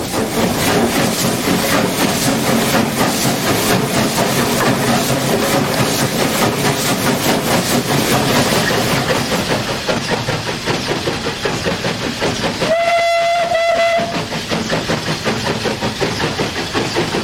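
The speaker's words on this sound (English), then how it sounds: "so you'll hear the engine working again" Steam locomotive No. 957 "Ironclad" labours heavily uphill on a steep stretch between Keighley and Oxenhope, its rhythmic chuffing loud and close over a constant rumbling roar, with a short whistle-like tone near the end.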